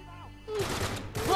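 Shotgun blasts boom in the Uncharted 3 video game, two loud, close bursts with a short gap between them, after a quieter stretch that holds faint game sounds.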